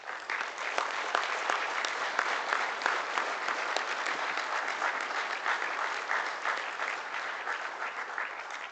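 A crowd at a livestock judging contest awards ceremony gives a family a full, even round of applause. The dense clapping continues steadily from start to finish.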